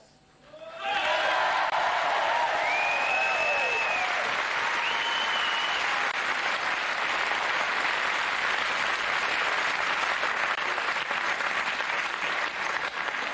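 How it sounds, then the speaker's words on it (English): A studio audience at a live 1987 comedy variety show breaks into loud applause that swells after a second and holds steady, with a few faint cheers and whoops early on. "to your thunderous and spontaneous applause"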